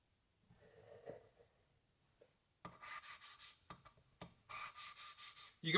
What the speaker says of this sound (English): You can probably hear the difference in the noise too between the coarse compound and the fine.